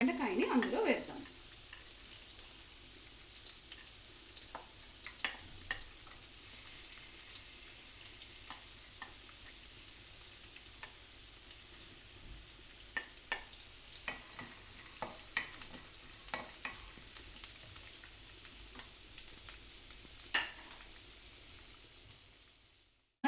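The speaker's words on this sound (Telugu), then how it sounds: "ఇప్పుడు మన వేరుశనగ పప్పుల్ని కొంత వేగనిద్దాం" Peanuts fry in a pan as a soft, steady sizzle, with scattered sharp clicks and pops from stirring. The sound is fairly quiet and close, and it tapers off at the end.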